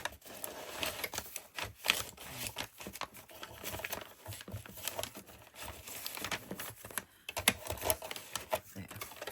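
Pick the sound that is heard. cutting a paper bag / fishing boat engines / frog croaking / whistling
cutting a paper bag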